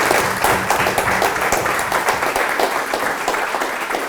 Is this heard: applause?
yes